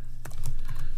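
Typing a command on a computer keyboard for a Raspberry Pi 2, a few close, distinct key clicks in quick succession over a low steady hum.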